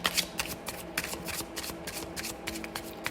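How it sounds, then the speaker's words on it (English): A deck of tarot cards is shuffled continuously up close, a dense run of rapid papery flicks and slaps. "I go ahead and shuffle live."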